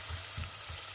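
Onion, ginger and garlic paste sautéing in a hot pan gives a close, steady sizzle and crackle, with soft low scraping strokes of stirring at a regular pace and no talking.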